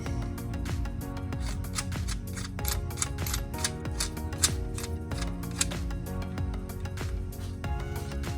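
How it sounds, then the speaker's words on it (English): A hand tool enlarges the hole in a metal washer during a Dana 18 transfer case build, making quick, steady rasping strokes in a continuous scraping rhythm, fairly quiet and close. "open that hole up a little bit on that washer"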